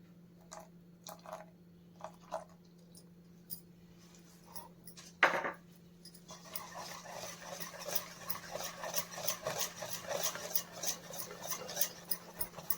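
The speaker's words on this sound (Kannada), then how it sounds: "ಒಂದ್ಸತಿ ಮಿಕ್ಸ್ ಮಾಡ್ಕೋತೀನಿ ಅಷ್ಟೇ." A spoon stirs eggless semolina cake batter with a splash of milk in a bowl, starting with a few soft taps and one sharp knock, then settling into a steady run of wet scraping and squishing strokes over a low hum.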